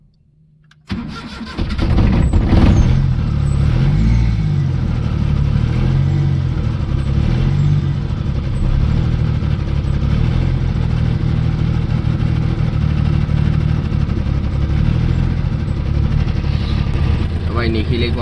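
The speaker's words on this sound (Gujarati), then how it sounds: "ગાડીને સ્ટાર્ટ કરી દે પહેલાં, એટલે ગાડીનો ફાયરિંગ સાંભળીને છે ને એ આવશે" A car engine cranks and fires at about one second, then settles into a loud, steady run with a low rumble that holds to the end, with no voices over it.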